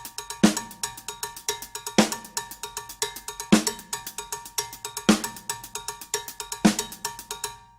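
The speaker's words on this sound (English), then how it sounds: "I'll play it on a cowbell so you can hear the difference" A cowbell plays a repeating rhythmic pattern, with a strong accented hit about every one and a half seconds and lighter strokes between.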